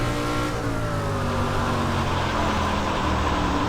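A dirt race car in the iRacing sim roars at high revs, a loud, steady engine drone with harmonics gently rising and falling as the throttle shifts, continuous and without talk.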